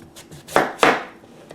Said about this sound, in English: So now just slice it into about 1-inch slices.